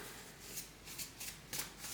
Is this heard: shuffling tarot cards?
yes